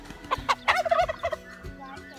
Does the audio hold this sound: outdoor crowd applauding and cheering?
no